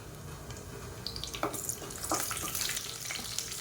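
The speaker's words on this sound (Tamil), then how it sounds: "இப்போ இது எல்லாமே நல்லா பொரியட்டும்" Whole spices, cinnamon, cloves, star anise and curry leaves, crackle and fry in hot oil for a potato onion kuruma, a steady close hiss with a few sharp pops and spits building toward the end, no talk.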